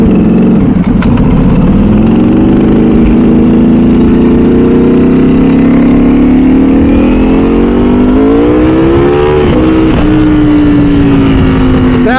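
A Ducati V4 SP2 motorcycle engine roars loud and close, its note rising steadily under acceleration, dipping briefly around a gear change, then climbing again.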